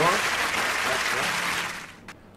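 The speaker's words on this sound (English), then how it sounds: "As the sound of the hands coming together rapidly." Brisk, dense applause from many hands clapping rapidly, loud and steady, then fading out at the end.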